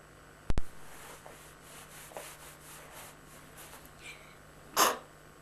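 A single sharp sneeze bursts out near the microphone in a quiet indoor room, following a soft thump earlier and faint rustling in between.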